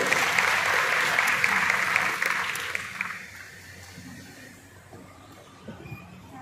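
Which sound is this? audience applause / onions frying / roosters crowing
audience applause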